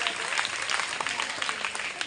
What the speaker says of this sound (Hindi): तालियां हो जाए जोर से इन बच्चों के लिए